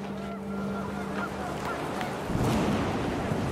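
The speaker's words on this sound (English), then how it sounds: "panicked geese appeared and quickly went" Geese honking in a panic outdoors, harsh calls scattered across a few seconds over a steady low hum, growing louder and busier toward the end.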